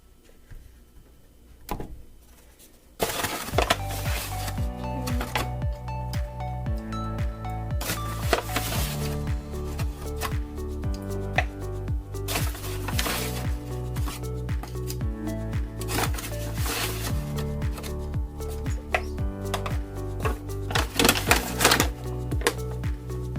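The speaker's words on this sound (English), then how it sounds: "Not even sure if you can hear me talking over that because the grinder is loud" A loud electric food grinder runs while preparing chocolate zucchini cake batter, a dense, continuous clattering whir with rapid rhythmic pulses that starts abruptly after a brief quiet moment and persists steadily throughout.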